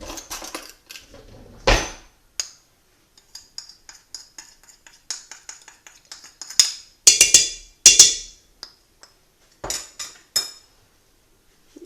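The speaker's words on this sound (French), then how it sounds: "Et je vais mélanger l'ensemble." A metal spoon stirs harira soup ingredients in a pot, giving irregular clinks and scrapes against the pot's sides, with short bursts separated by quiet pauses and a few sharper knocks near the end.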